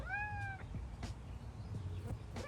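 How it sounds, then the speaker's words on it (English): A cat in a sunny urban garden gives a single clear meow near the start, followed by faint, scattered background sounds and a steady low hum, with no voices. "you're such a good garden cat, aren't you? Aren't you, JJ?"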